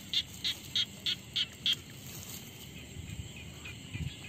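Small frogs calling at night: six short, bright chirping croaks in a steady rhythm over about two seconds, then a quieter stretch of faint night noise with low rustling.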